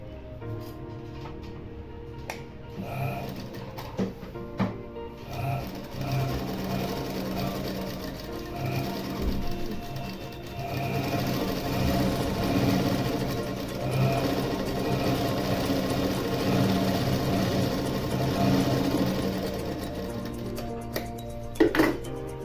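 A sewing machine stitches two layered pieces of fabric together for a small girl's skirt, with a steady fast mechanical whir that builds and runs continuously, close and fairly loud, with a few light clinks near the start.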